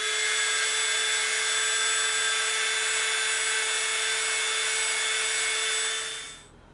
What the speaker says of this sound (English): we're going to take our Dremel and we're going to slightly soften the edge all the way around all of these